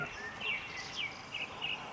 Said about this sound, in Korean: 새소리 들리세요?